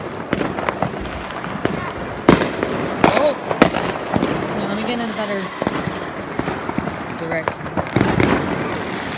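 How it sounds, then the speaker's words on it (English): Fireworks going off behind trees on the 4th of July, repeated sharp bangs and crackling bursts scattered across the stretch, some loud and near, with a person speaking briefly over them. "There's fireworks behind those trees everywhere."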